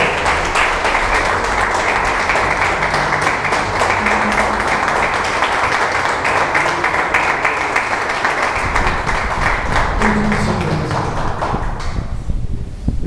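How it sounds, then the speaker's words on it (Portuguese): A church congregation applauds for about twelve seconds during a Portuguese-language sermon, a loud, steady wash of many clapping hands with low murmuring and music-like hum beneath, fading out near the end. "Você pode dar uma salva de palmas para ele?"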